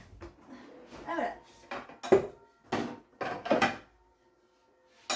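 A saucepan knocks and clanks against other pots and cookware as it is pulled out in a home kitchen, several sharp irregular metallic clatters separated by short pauses, fairly close and moderately loud.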